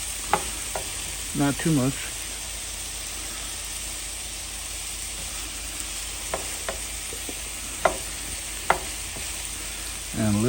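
Vegetables for stuffed peppers sweat in a hot pan with a pinch of kosher salt, giving a steady, close sizzle with occasional stirring scrapes; a voice speaks briefly over it.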